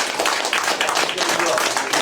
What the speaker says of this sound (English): I want to give them a little round of applause